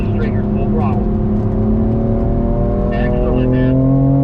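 A BMW on a race track revs at full throttle, engine tone climbing steadily and droning loud from inside the cabin, while an instructor talks over it.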